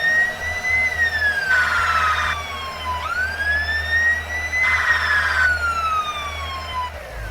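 Fire truck siren in a children's vehicle video game, a loud wailing tone that rises and falls in two long sweeps over a low engine rumble, with no one speaking.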